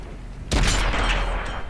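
Tank cannon shot in World of Tanks, a single heavy blast that booms in suddenly with a deep low-end thump and rolls off into a lingering rumble.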